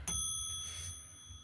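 A single bell strike from a clock with a count wheel striking movement, a sharp ding that rings on with clear sustained tones and slowly fades, fairly close and alone.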